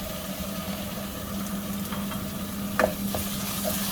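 Onions and tomato paste fry in a pan, a continuous close sizzle under a low steady hum, with a couple of scraping stirs of a spatula.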